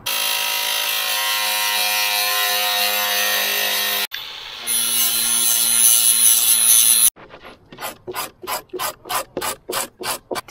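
Part of a steel mast divider plate on a sailboat is cut down with a tool. A steady grinding rasp runs for several seconds, changes pitch, then gives way to a series of rhythmic back-and-forth strokes, loud and close.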